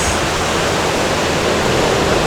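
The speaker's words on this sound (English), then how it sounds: "See the waves and how crazy they are." Surf crashes at Tea Tree Bay in Noosa National Park at high tide, a loud, steady roar of breaking waves and washing water filling the whole moment, with no voices.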